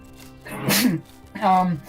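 A single sneeze in two quick parts, a sharp intake then a burst, close to the microphone over faint background game sound during an online game session.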